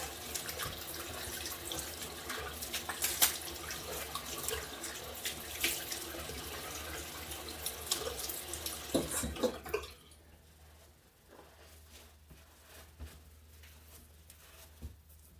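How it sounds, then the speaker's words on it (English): Tap water runs steadily into a sink while a razor is rinsed under it, with splashing and dripping, loud for about ten seconds and then quieter with scattered drips and clatter. "let me rinse this off real quick"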